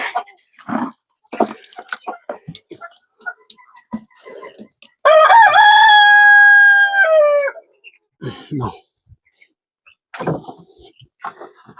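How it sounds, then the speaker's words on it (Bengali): Brahma chickens kept in a backyard coop: scattered clucks and calls, then one long, loud, wavering rooster crow near the microphone in the middle, followed by more short clucks. "এটা হচ্ছে ব্রাহ্মা। এটারও ব্রাহ্মার, মানে এগুলো আমার ব্রাহ্মা।"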